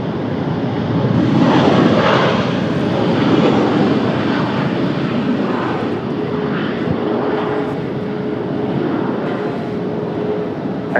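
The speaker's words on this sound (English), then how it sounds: "Got an arrival of a United 737 up now" A United Boeing 737 arrives at Washington Dulles on a cloudy day, a close, loud jet engine roar with whining tones that swells and eases in waves over several seconds.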